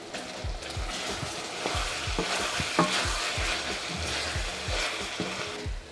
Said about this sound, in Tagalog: haluin nyo ng haluin hanggang sa parang maging tostado tong chicken thigh